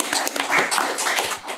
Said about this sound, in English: I'd like to give them a round of applause for what they've done